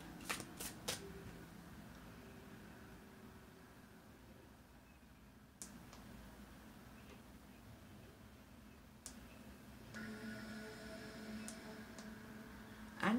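Tarot cards being shuffled by hand before a card is pulled: quiet, soft riffling and rustling in short bursts near the start and again around the middle and end, against low room noise with no talk.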